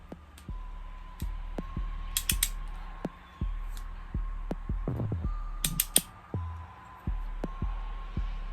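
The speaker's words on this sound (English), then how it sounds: "We're going to torque each one of them down to 20." Cylinder head bolts on a 2005 Yamaha Banshee are tightened with a torque wrench, giving repeated close, sharp ratcheting clicks in a steady rhythm with brief pauses between strokes, and no talking.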